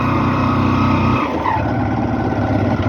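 A motorcycle engine hums and drones loudly and close by while riding a damaged mountain road in Nepal. The engine tone shifts partway through as the rider eases off and pulls again.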